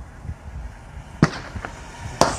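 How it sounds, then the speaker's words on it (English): Sharp reports crack out at a police killing: two loud, distinct bangs about a second apart, with smaller pops between them over a low, rumbling outdoor background. "They're shooting them."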